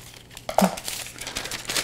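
Parchment paper for gluten-free air-fryer apple fritters crinkles as it is folded into quarters, then a sharp close-up snip of scissors rounds off the corner, followed by softer rustling.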